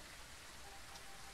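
Steady rain falling in the horror video game Phasmophobia, a faint, even hiss of drops that stays uniform and constant throughout the short stretch.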